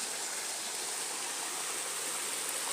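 River water rushes steadily in a rural outdoor setting, a dense, even hiss of flowing water, close and continuous, with no talk.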